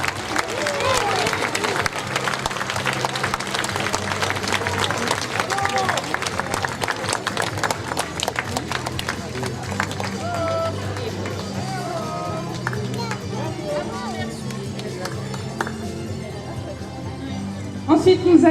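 An audience at a costume contest and podium event in a small French village applauds a contestant, with brisk, full clapping early that thins into lighter scattered claps beneath background music and crowd murmur.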